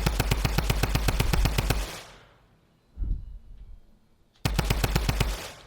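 Rapid automatic gunfire from guns in the Fortnite video game, loud and close in fast regular bursts, breaking off into a short quiet gap with a single thud before the rapid fire resumes.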